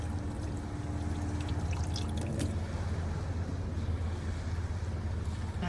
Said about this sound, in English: Rinse it out.